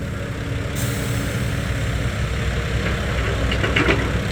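A dump truck with modified valve settings runs on sticky soil, giving a steady, close, heavy low-pitched engine rumble with light clanks near the end.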